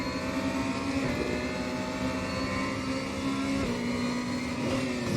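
BMW M4 DTM race car driven at Zolder in RaceRoom, engine droning steadily and loud throughout with a strained tyre squeal woven in, no voices.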